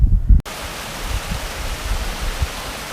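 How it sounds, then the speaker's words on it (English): Steady broadband rush of water falling from a dam above a swimming hole, continuous and fairly loud, with a brief low thump at the very start. "you can hear the water coming down from the larger dam up above"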